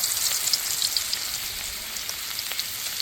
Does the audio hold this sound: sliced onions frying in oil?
yes